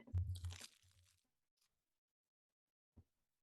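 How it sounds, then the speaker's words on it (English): A close crunch right at the microphone as someone bites into Icebreakers mints, a short burst of crisp crunching followed by silence and a faint click. "I'm just gonna pick that crunching noise in the mic probably."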